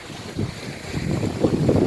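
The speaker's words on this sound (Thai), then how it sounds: "ลมก็แรงแรง" Strong wind outdoors in Norway after rain, gusty rumbling buffets against the microphone, rising and falling in low roaring bursts, close and fairly loud with no voices.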